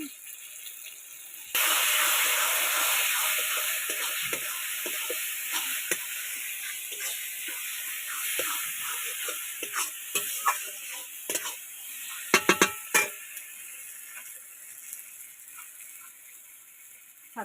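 Garlic, ginger and chili paste with turmeric sizzling in a pan for a chicken and kohlrabi curry, with a steady loud fry and scattered scraping stir strokes, sharper spoon clanks near the end.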